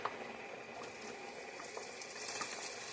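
Macaroni boiling in a pot of water, a soft bubbling and rolling burble heard close and faint, no voices.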